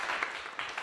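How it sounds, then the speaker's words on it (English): One person claps their hands about four times, a quick, loose rhythm of sharp slaps heard close by with nothing else around them. "I give you a clap."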